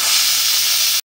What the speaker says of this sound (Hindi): कुकर की स्टीम हमने निकाल दी है